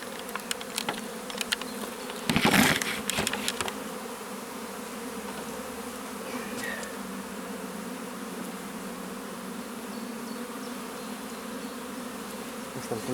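Honeybees buzzing steadily during a hive inspection, a dense close drone filling the whole stretch, with a brief louder swell as a bee passes near and faint handling sounds.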